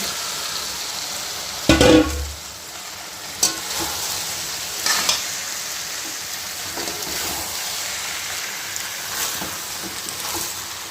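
Potatoes sizzle steadily in a hot pan while a utensil scrapes and stirs them, with a few louder clanks against the metal.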